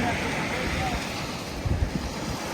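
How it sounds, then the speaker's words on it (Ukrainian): Steady wind on a Black Sea beach at Kurortne, Ukraine, buffeting the microphone with a broad roar, and a few faint low thumps near the end. "Так, сьогодні вітер."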